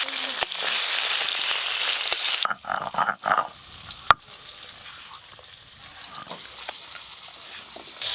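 Small puti fish fry in a pan with a bright, steady sizzle that is cut off by clattering handling noises and a sharp knock, then gives way to quiet background.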